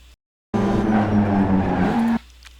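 Mazda MX-5 engine screaming high in the rev range in third gear in the iRacing simulator at Laguna Seca, a loud buzzing burst of about a second and a half, then cutting back abruptly.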